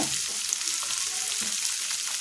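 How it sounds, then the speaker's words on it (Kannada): Vegetables frying in a pan for a Kannada cowpea bean side dish served with jolada rotti, a loud close continuous sizzle with faint stirring scrapes and no talk. "ಸ್ವಲ್ಪ ಚೆನ್ನಾಗಿಂದ ಫ್ರೈ ಆಯಿತು"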